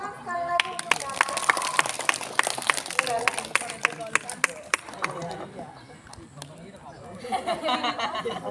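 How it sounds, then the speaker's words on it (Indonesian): Hands clapping for a student named Dana after a readathon reading during a school Language Month event: a sharp burst of claps that tapers off, followed by voices and room noise. "Tepuk tangan sekali lagi untuk Dana."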